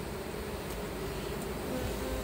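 Honeybees buzzing inside a hive box being checked for capped honey, a faint continuous close drone with a steady hum and no speech.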